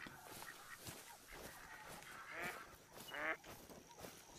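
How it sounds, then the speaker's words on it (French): Waterfowl calls ring out across the open landscape of theHunter: Call of the Wild, with a couple of clear nasal honks or quacks standing out around the middle and a murmur of ambient wildlife sounds beneath. "C'est des canards qu'on entend."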